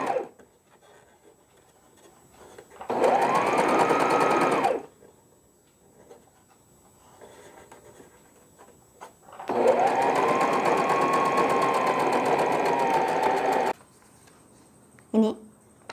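Domestic sewing machine stitching a newborn frock, running in two steady bursts of rapid whirring separated by quiet pauses, with a short click at the end and a voice briefly heard.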